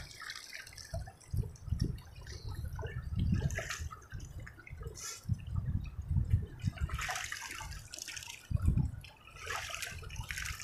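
Water from a natural mountain canal near Chalt, Nagar in Gilgit-Baltistan splashes and trickles close by, with irregular drips and gurgling bursts, fairly quiet and with no talk.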